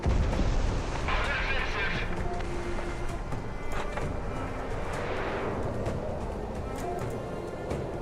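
Aircraft gunfire in the video game Project Wingman, rapid booming cannon bursts and rumbling jet noise throughout, loud and dense, with radio-style voices mixed in.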